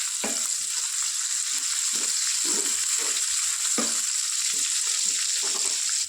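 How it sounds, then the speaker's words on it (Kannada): Onions frying with curry leaves in a pan give a continuous close sizzle, broken by several soft scraping stirs at irregular intervals, with no talk. "ಇದನ್ನು ಈರುಳ್ಳಿ ಕಲರ್ ಸ್ವಲ್ಪ ಚೇಂಜ್ ಆಗಬೇಕು, ಅಲ್ಲಿವರೆಗೂ ಚೆನ್ನಾಗಿ ಫ್ರೈ ಮಾಡ್ಕೊಳ್ಳೋಣ"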